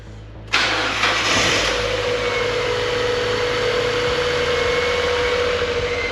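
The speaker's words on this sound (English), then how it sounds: "Sounds fine. Besides the slight whine from the accessory belt." A car engine starts and settles into a steady idle, with a thin, continuous whine from the accessory belt running above the engine hum.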